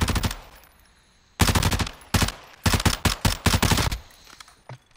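Loud, close automatic gunfire in Warzone 2: a short burst, a pause, then several rapid bursts of sharp shots in quick succession, with a few faint trailing sounds.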